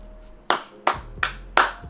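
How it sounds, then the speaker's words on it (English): Hands clap five times in a slow, irregular sequence, each sharp, close and loud, with faint background hum between claps and no speech. "I'm clapping for both of them"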